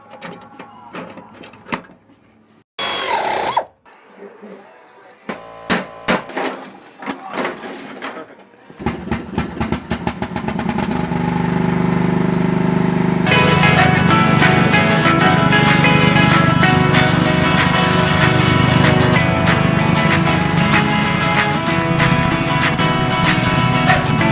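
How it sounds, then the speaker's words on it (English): A repaired walk-behind lawn mower engine gives a few short, sputtering bursts, then catches at about nine seconds and runs loud and steady close by for the rest of the clip. "until we start the mower and go, we will not know"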